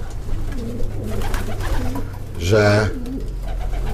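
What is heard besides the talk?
young pigeons cooing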